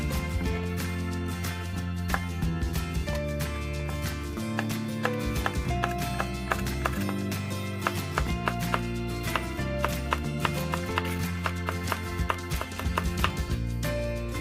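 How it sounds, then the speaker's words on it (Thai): A knife chops peeled Indian trumpet tree (peka) pods into pieces for a northern Thai stir-fry, making a steady run of quick, repeated knocks on the board under continuous background music. "หั่นเป็นชิ้น ๆ แบบนี้นะครับ"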